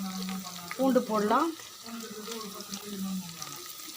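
Onions and curry leaves fry in hot oil with a steady, soft sizzle close by, under a person talking.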